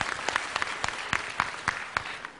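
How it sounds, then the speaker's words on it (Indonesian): Scattered clapping from an audience greeting a minister-level guest at an evening public forum, with a few distinct hand claps at an uneven rhythm, fairly sparse and moderately near. "tepuk tangannya"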